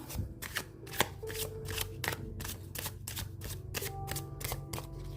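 A deck of tarot cards is shuffled close up in a fast, steady riffle of papery flicks that runs without a break for several seconds, with no talking over it.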